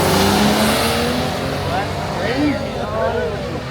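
Supercharged and twin-turbo Ford F150 pickup trucks racing side by side, a loud sustained engine roar with rising and falling revs, with people talking over it.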